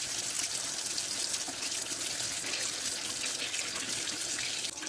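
Steady running tap water splashes continuously into a sink as fish, salted and rubbed with ajwain, is gently washed by hand, with no talking.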